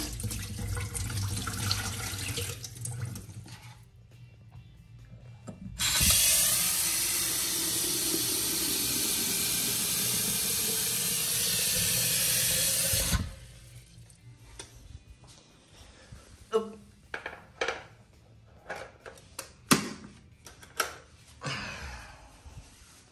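Water boiling in a kettle in a home kitchen, a steady loud rushing hiss that builds for several seconds, then cuts off and gives way to scattered clicks and knocks.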